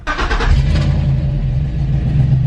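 LS engine starting after a crank sensor replacement: a brief cranking burst that catches and settles into a steady, loud idle rumble, close by and without talking.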